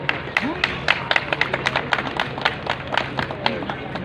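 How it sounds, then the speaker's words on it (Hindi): Audience applause welcoming officials at a union gathering in Azamgarh, a steady run of scattered hand claps with a busy crowd murmur underneath, moderately loud throughout. "जोरदार तालियों से स्वागत करें।"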